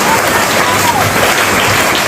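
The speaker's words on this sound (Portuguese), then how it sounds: "Aplauda o nome do Senhor Jesus Cristo." Congregation applauding at a church conference, loud sustained clapping from a large crowd with voices and cheering mixed in.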